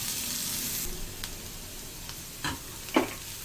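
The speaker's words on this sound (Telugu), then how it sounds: "హీట్ అయ్యాక ఫస్ట్ సోంపు వేసుకుని, తర్వాత పచ్చిమిర్చి కొంచెం వేగిన తర్వాత ఆనియన్స్, ఇవి రెండు కొంచెం వేగాలి." Fennel seeds, green chilies and onions fry in hot oil with a steady sizzle that is fuller at first and then thins out. A few soft clicks and stirring knocks follow.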